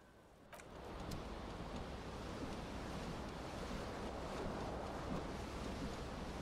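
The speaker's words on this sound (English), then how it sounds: "The cool wind gushes in." Cold wind gushes through a smashed window in the video game Disco Elysium, a steady, close, broadband rush of air that holds at an even loudness throughout, with no voices.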